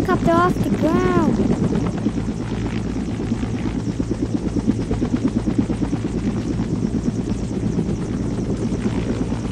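A helicopter's engines drone loudly and continuously at full speed as it strains without lifting, with a brief rising-and-falling whine early on and people talking over the roar.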